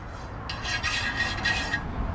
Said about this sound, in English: All that sanding and polishing.